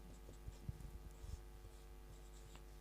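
Pen writing numbers on paper while a trigonometry problem is worked out, soft scratchy strokes in short bursts, very quiet and close, with no talk over it.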